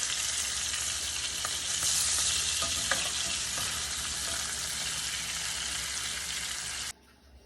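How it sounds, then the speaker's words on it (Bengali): Four or five pieces of hilsa fish frying in a pan, a loud, continuous close sizzle with dense hiss and occasional pops, no talking, cutting off abruptly near the end. "ওই যে চার পাঁচ টুকরো ইলিশ মাছ ভাজি করছে হাজব্যান্ডের জন্য"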